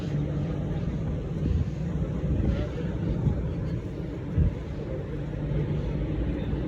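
Strong wind buffets the microphone in a continuous low rumble for several seconds outside the Atlantic Pavilion in Liverpool, with faint voices in the background.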